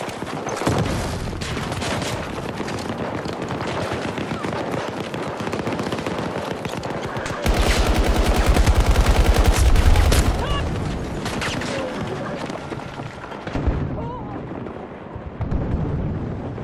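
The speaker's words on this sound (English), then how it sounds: "Прекращай по мне палить!" Rapid automatic gunfire and explosions fill a Battlefield 2042 firefight around a corner, the bursts loud and dense with a heavy blast midway, while a player shouts over the shooting.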